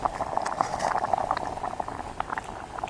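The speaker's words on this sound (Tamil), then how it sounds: "இறக்கி வச்சு கூட கொதிக்குது பாரு." Thick spinach curry bubbles and pops steadily in a pot taken off the heat, a close, continuous simmering with small irregular plops and no talking.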